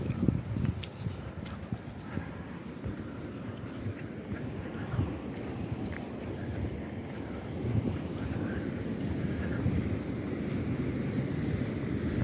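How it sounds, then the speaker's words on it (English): Ocean at Playa Balandra beach near La Paz, Mexico: a steady low wash of surf and water mixed with heavy wind buffeting on the microphone, continuous and moderately loud with no clear breaking waves. "I hear the ocean."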